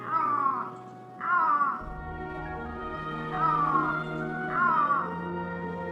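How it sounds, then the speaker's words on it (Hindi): An Iberian lynx in the Andalusian forest gives four loud, drawn-out yowling calls at a steady interval, close by, with a low rumbling hum underneath. "दुनिया की सबसे डरावनी बिल्ली आइबेरियन लिंक्स की दहाड़ एक दहशत पैदा करती है।"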